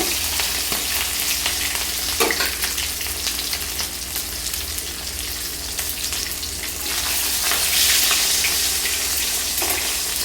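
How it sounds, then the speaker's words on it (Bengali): Fish heads fry in an oiled pan for a bottle gourd curry. A loud, steady, close sizzle runs the whole time, with brief stirring scrapes and a surge of crackle near the end. "আর এই দিকটা ভালো করে ভেজে নেব ভেজে নিয়ে মাছের মাথাগুলো তুলে নেব"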